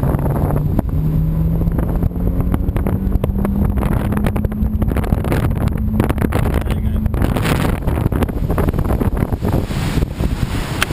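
A C Fury Patrol AWC F70 boat with a short propeller and one person aboard accelerates hard from about 4 knots, its engine note rising steadily in pitch under loud, constant wind buffeting on the microphone and rushing water.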